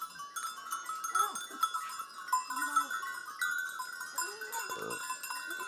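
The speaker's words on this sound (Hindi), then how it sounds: "और भाई साहब के पास लगभग 20-25 बकरियां हैं भाई" A herd of about twenty goats in a Garhwali hill village bleats repeatedly nearby. Wavering calls overlap at varying distances, with a faint clink like a bell and some human voices in the background.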